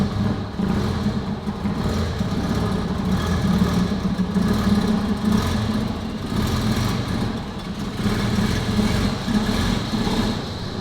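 A BMW E28 car engine rumbles nearby with shifting revs, swelling and easing as the car rolls slowly in.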